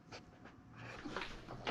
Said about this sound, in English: Farm dog.